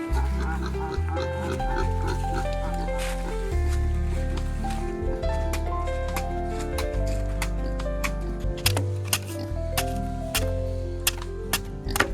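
Pigs on an Assam farm grunt and oink steadily while feeding on cut fodder, with sharp chewing clicks and ticks throughout, loud and close.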